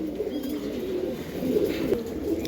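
Giribaz pigeons coo in a steady, rolling stream of low throaty calls, close and fairly loud, with overlapping birds cooing continuously.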